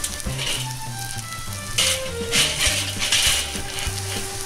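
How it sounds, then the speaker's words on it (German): Berner Rösti potatoes fry slowly in a cast iron pan set over indirect heat, giving a steady, close sizzle that swells briefly partway through. "Wir haben jetzt die Pfanne in den etwas indirekteren Bereich geschoben weil das soll ja langsam garen"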